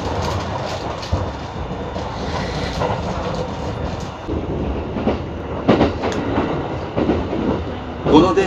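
Inside a Kintetsu Urban Liner limited express train running through Mie and Nara, a constant low rumble carries rhythmic wheel clatter and occasional rattles and knocks, all heard from within the passenger car.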